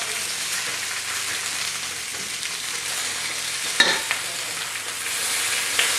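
Potatoes sizzle and fry steadily in a pan, a dense crackling hiss throughout, with a couple of sharp scraping knocks near the middle as they are turned over.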